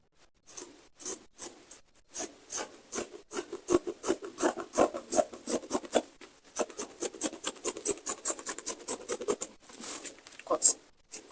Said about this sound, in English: So we'll get our scissors and cut.